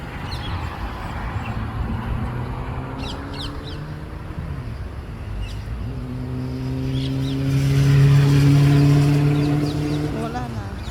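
Passing road traffic, cars rolling by one after another with engines swelling loudest near the middle and easing off, while a crow caws and people talk over it.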